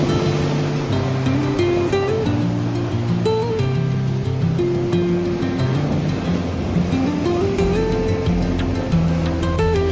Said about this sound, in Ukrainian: Хоч сьогодні на морі шторм